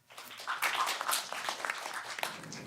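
Audience applause at an international development conference, a full room clapping steadily from a moment after the start to the end, moderately loud and without talk.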